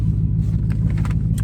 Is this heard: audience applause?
no